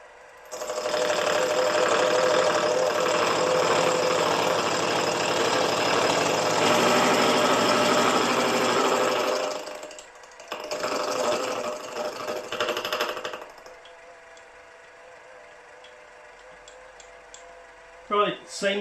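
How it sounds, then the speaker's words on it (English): A model-engineering milling machine drives a disc cutter through crankshaft gear teeth for a 2-inch Fowler Showman's traction engine. A loud, steady grinding whine runs for about ten seconds, then a shorter burst follows and fades to quiet. "Now I'm going to cut all the teeth."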